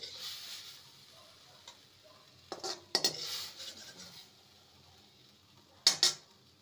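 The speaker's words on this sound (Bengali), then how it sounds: "এবার কুমড়োগুলো একটি পাত্রে তুলে নেব," Boiled pumpkin being moved into a bowl, with a few sharp metal utensil clinks and scrapes against the dish, separated by quiet pauses and faint background hiss.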